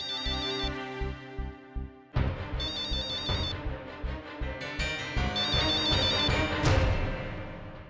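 A mobile phone ringtone plays a repeating electronic melody, loud and close, cycling several times with a warbling trill over a steady musical backing, no speech.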